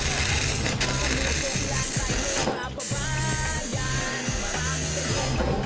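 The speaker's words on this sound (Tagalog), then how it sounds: "Papakita natin kung gaano kalakas yung ating inverter welding machine." A Kusama Japan IGBT inverter welding machine rated at 300 amps cutting through steel, making a loud, continuous crackling and buzzing roar that drops out briefly once, then carries on steadily up close.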